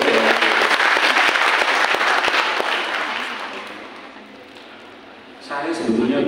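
An audience of teachers applauds at a motivational day event for a teachers' association anniversary, loud dense clapping that fades over a few seconds before swelling again, with a voice briefly rising near the end.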